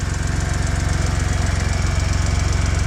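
A Joyner Renegade R2 4x4 off-road buggy's small 800cc three-cylinder Chery engine runs steadily nearby, a loud, even low-pitched throb with a rapid regular pulse and no talk over it.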